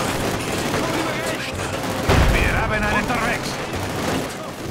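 Chattering bursts of small-arms fire against enemy soldiers and a machine-gun nest in Company of Heroes 2, a steady crackle with a heavier thump midway, while a voice talks over it.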